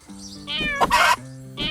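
A house cat gives two or three close, clear meows in quick succession, the middle one loudest and drawn out.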